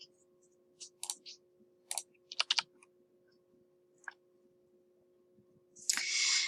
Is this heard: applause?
no